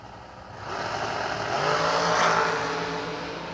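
Wing dragster engine at a drag racing event, a broad roar swelling as the car passes and then easing off, heard from a distance with no voices.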